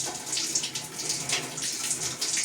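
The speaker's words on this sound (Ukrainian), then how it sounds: "Нехай тече, тепер у нас буде чистенька водичка." Water runs steadily from a newly reconnected tap, a continuous hissing splash with a slightly fluctuating flow, moderately close and on its own without any talking.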